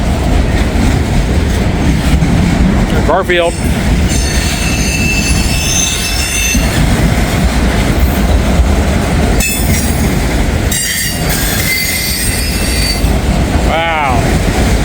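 Close and loud, a Hamilton freight train hauling SUVs grinds past in a constant heavy rumble, with several sharp wheel squeals rising and falling above it and a brief spoken word partway through.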